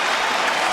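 Sustained applause and cheering from a tennis crowd for Djokovic at the Australian Open men's final, a dense, loud wash with no individual voices standing out.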